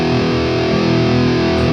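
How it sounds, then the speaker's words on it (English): A single sustained, heavily distorted electric guitar chord rings out loud and thick, filling the space with a roomy, reverberant wash. "I love to add a bit of room. So, think of this like a bit of a reverb really"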